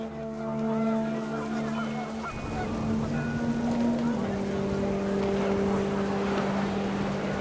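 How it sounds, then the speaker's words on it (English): Geese honk repeatedly over a steady, droning electronic background in the video game What Remains of Edith Finch, loud and continuous with no pauses. "The wind picked up, and panicked geese appeared and quickly went."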